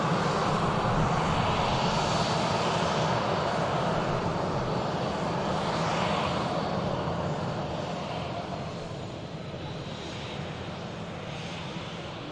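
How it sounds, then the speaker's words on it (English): A Norwegian airliner taxis toward the second runway at Manchester Airport, its engines producing a loud, steady, broadband roar that holds throughout and eases slightly toward the end, with no talk. "the red nose of Norwegian is on the taxi over to the second runway"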